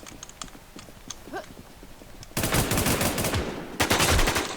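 Gunfire in a first-person shooter game: quieter scattered shots at first, then dense, loud bursts of rapid fire that persist to the end, broken by one brief pause.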